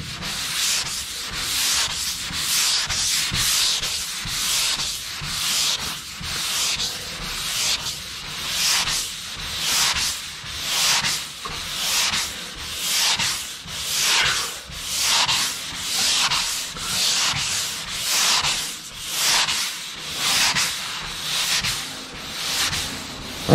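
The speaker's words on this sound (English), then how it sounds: "I can see as I'm sanding if I'm getting it down all right." Hand sanding strokes drag back and forth across a surface in a steady, even rhythm, each gritty rasp swelling and fading roughly every second and a half, close up with no voices.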